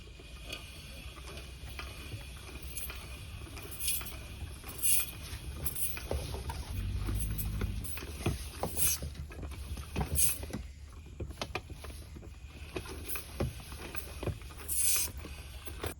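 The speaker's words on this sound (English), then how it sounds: "Now I'm going to turn off the cam brake and reel in the hose." A 100-foot garden hose winding onto an Eley hose reel outdoors, giving a faint, steady mechanical rattle with scattered light clicks over a low rumble, and no voices.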